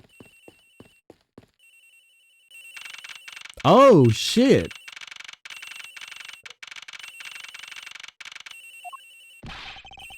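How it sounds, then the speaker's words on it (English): A telephone rings in the Ace Attorney Investigations video game, a steady electronic trill repeating over several seconds. A loud exclamation breaks in partway through, and a brief game sound effect follows near the end. "It sounds like the phone is up in the flight attendant's room."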